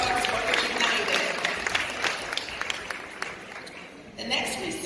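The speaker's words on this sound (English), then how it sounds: "Let's give Sierra a round of applause." Audience applause for an award recipient at a morning show ceremony, scattered clapping from a modest crowd that swells and thins over several seconds.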